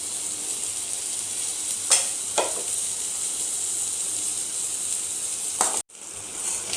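Red chili, cumin and coriander powders fry with pointed gourd in a pan over low flame, making a constant close sizzle with a few sharp stirring scrapes and a brief break near the end.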